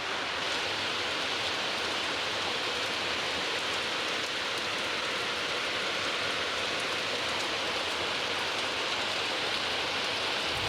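Rain falls steadily as a soft, even hiss that stays unbroken throughout, with no voices.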